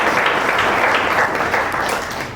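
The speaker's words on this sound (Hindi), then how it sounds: "जोरदार ताली बजाएं।" A crowd at a village inauguration of solar panels and smart classes applauds loudly, with sustained dense clapping that eases off slightly toward the end.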